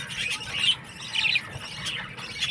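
Budgerigars in a home breeding colony chirp and squawk in quick, bright bursts, several birds calling at close range with a steady low rustle beneath.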